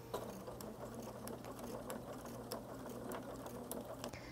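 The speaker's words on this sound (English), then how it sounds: "I can line up my fabric, hold that pin down, and sew." A sewing machine stitches through fabric held at a pinned point, its fast even needle clatter running steadily with a low motor hum beneath and occasional sharper ticks, close and quiet.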